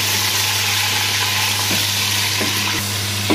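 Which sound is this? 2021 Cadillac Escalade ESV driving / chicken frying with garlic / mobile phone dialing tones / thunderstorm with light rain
chicken frying with garlic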